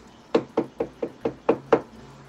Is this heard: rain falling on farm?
no